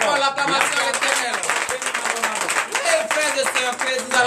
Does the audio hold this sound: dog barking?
no